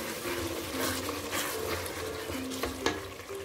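Biryani masala being stirred into softened tomatoes in a pot for restaurant-style chicken biryani: a steady sizzle of frying with repeated scraping strokes of the spoon, close and moderately loud, no voices.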